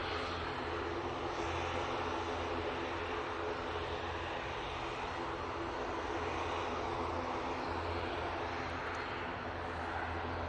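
Aircraft engine of a plane waiting on the ground at Manchester Airport, a steady, continuous drone with a constant hum, held at an even level from start to finish.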